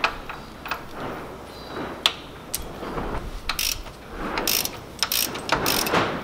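Hand ratchet loosening the clamps holding a CVT transmission, with bursts of quick clicking strokes and metallic ticks spread across the stretch, close by and moderately loud with no voices.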